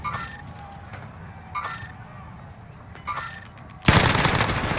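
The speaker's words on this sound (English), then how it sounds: "Somebody started shooting me." Gunfire in a multiplayer shooter game, with several short bursts of distant shots spaced apart, then a loud close volley of rapid fire at the end.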